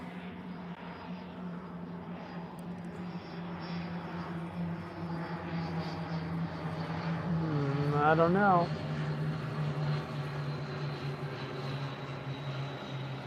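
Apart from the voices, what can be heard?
plane or jet flying overhead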